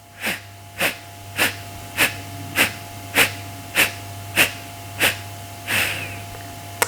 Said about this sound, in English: Exhale, 10 equal sniffs.